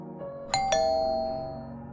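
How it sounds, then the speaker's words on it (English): A doorbell chimes a clear two-tone ding-dong, the second note ringing out and slowly fading over a low background hum. "when the doorbell rang"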